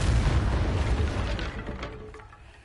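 A Depulso spell cast in Hogwarts Legacy lands as a heavy, booming blast that starts loud and decays over a couple of seconds.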